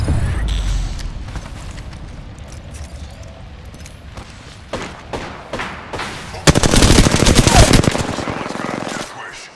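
Automatic gunfire in the battle royale game Apex Legends, with scattered shots and bangs followed by a loud, dense burst of rapid fire toward the end, heard up close.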